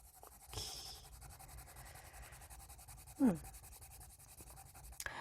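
Oil-based coloured pencil, a darker shade from a 72-colour set, shading across paper with light pressure: a faint, steady dry rubbing with one brief sharper scrape midway.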